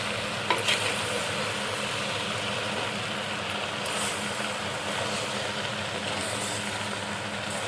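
Food in a wide pot is stirred in a low, continuous wash of simmering and scraping, with a few faint clinks near the start and occasional soft rustles, heard at a distance.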